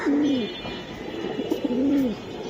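Giribaz pigeons coo close by in two soft, rolling phrases, each a low warbling call that rises and falls, with faint background noise.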